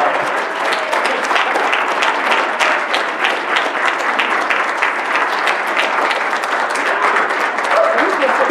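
A school board meeting audience gives a long, steady round of applause for an honoree named Larry, dense continuous clapping filling the room with a voice faintly beneath it.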